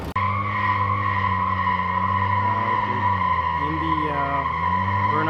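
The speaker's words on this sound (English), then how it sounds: "Burnout box right now, trying to warm up the tires, get some maximum traction" A 2020 Toyota Supra does a burnout at a drag strip to warm its tires. The engine holds a loud, sustained, roaring drone that shifts pitch toward the end, heard up close.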